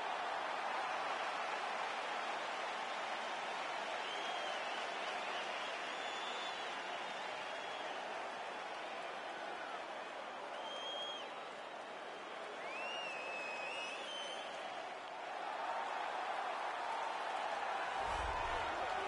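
A roaring arena crowd in a PS4 MMA fighting game as a fighter makes his walkout, a loud, steady wash of cheering with occasional whistles riding on top, continuous throughout.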